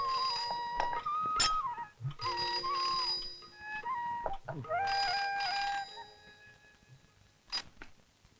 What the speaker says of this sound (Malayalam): phone phone phone അമ്മാവിക്ക് phone